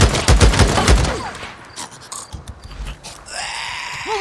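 Gunfire in Days Gone: a rapid volley of loud close shots for the first second, then sparser, fainter reports and rustling with a brief vocal sound near the end.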